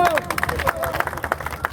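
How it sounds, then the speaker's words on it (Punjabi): An audience claps for a girl who has won a cycle at a fitness event, a quick burst of uneven, fairly close hand claps mixed with crowd murmur and voices. "ਖੁੱਲ ਕੇ ਤਾੜੀਆਂ ਮਾਰ ਦੋ"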